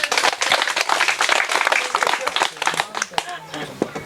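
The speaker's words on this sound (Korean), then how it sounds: "너무 좋은 질문 하시는데 박수 한번 치세요." Audience clapping at a Buddhist lecture hall, a burst of hand claps with uneven rhythm, mixed with a speaker's voice talking over it.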